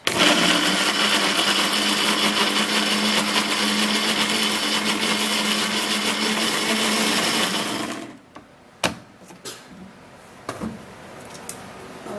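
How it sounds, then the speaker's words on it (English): A blender runs steadily at high, loud speed for about eight seconds, blending a skin-mask mixture with ice, then shuts off, leaving a few faint knocks and clatters. "then I'll leave it inside the blender and blend"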